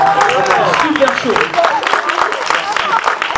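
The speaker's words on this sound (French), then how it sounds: "Applaudissez-le, c'est chaud." An audience at a comedy show in Toulouse claps steadily through the whole moment, the applause mixed with cheers and talking voices, near and loud.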